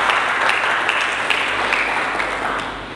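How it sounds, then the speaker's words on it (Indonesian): A church congregation applauds during a Pentecost service, a sustained wash of many hands clapping together at fairly high volume, tapering slightly toward the end. "Berikan tepuk tangan dulu bagi Yesus Kristus."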